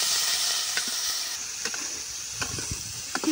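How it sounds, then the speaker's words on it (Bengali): Salted fresh prawns with turmeric frying in hot oil, giving a steady close sizzling hiss with scattered sharp spits and crackles throughout. "বেছে রাখা লবণ মাখানো চিংড়ি মাছগুলো এখন দিয়ে খুব ভালো করে ভেজে নেব।"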